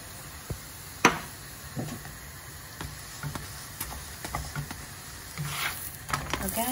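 Methi paratha, a fenugreek flatbread, sizzles in oil on a hot pan, with a quiet steady fry and sharp taps and clinks of a utensil turning and pressing it; close-up, no voices.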